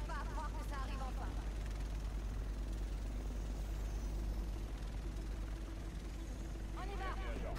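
A helicopter in the video game The Division, a steady low rotor and engine drone that holds throughout at an even level, with game voices and chatter over it.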